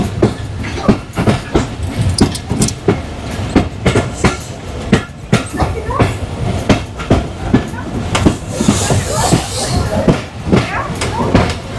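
A train pulls into Hili rail station near the India border, its wheels beating a steady clickety-clack rhythm over the rails, loud and close throughout, with faint squeals.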